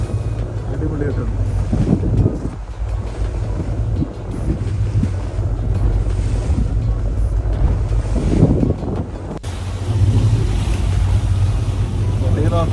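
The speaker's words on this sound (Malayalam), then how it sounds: "നോക്കിയാൽ അറിയാം, നല്ല തിരയാണ്" Sea waves slap and wash around a fishing boat out in open water off Oman, a steady roar mixed with wind buffeting the microphone and a low engine-like rumble throughout.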